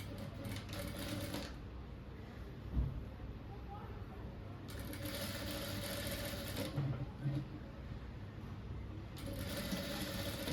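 Sewing machine running in long steady bursts while stitching a three-dart blouse, a continuous mechanical whir that stops and restarts with short pauses between runs and faint thumps of handling in the gaps.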